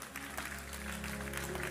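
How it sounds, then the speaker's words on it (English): A church congregation applauds at a Bible study as a clap offering, giving a brief, steady patter of clapping heard at a moderate distance. "Give the Lord a clap offering."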